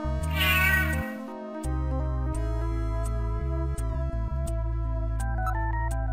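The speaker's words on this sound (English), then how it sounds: "What about the cat?" A cat gives a short meow near the start, over steady electronic game music with synth tones and soft percussive hits that keep playing after it.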